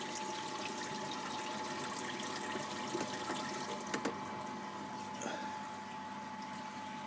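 Water rushes steadily in a continuous gushing flow as a 700-litre aquarium is drained through a hose, with a few faint knocks and a low hum underneath.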